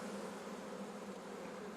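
Honeybees from a newly split hive buzz densely and continuously up close, a thick steady drone from a frame heavy with bees, with no talking.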